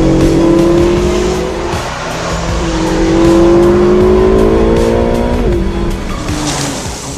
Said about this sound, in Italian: stiamo sfruttando principalmente le doti di ripresa del nuovo V8 Ferrari